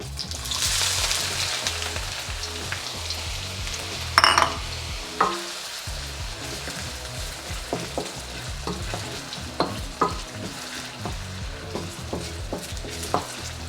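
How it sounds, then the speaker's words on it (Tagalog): Chopped onion sautés in hot cooking oil for chicken pastil, a steady sizzle with scraping stirs and a few sharp utensil clicks against the pan, close and alone with no talk. "Kapag mainit na yung mantika, ilagay na natin tong sibuyas."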